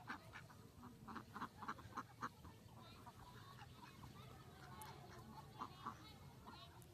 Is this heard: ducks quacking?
yes